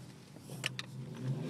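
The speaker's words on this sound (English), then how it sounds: "I'm sure you heard his engine" A departing car's engine gives a faint, steady low rumble in the distance, with a couple of brief higher clicks partway through.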